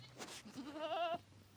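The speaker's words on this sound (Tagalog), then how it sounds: "Maraming kambing dito" A single goat bleat, wavering and nasal, lasting about a second, close by against quiet outdoor background.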